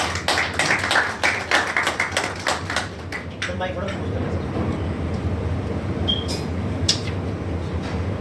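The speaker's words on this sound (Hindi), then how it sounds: "उनका तालियों से, गड़गड़ाहट से 3 बार उनका स्वागत किया जाए" Audience at a Jammu and Kashmir Rifle Association governing body meeting bursts into loud, close applause for the guests, the claps dense for about three seconds before thinning to scattered taps over room noise.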